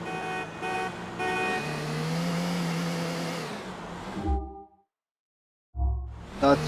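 A car driving in Grand Theft Auto IV. A steady, loud engine drone holds for several seconds, then cuts off abruptly into silence, followed by a couple of short thumps and a brief return of noise.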